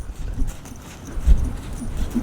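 Horse hooves clip-clopping as a horse is worked on a lead, a loose irregular beat of close hoof falls with no voices.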